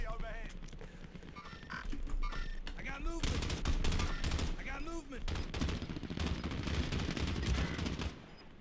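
Rapid bursts of video game gunfire, including automatic volleys and single shots, ring out loud and near in a shooter match, nearly continuous across the stretch with brief pauses.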